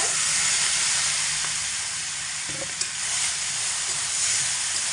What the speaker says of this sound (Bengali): এবার আমি এর মধ্যে লবণ হলুদ মাখিয়ে রাখা আম দিয়ে দেব।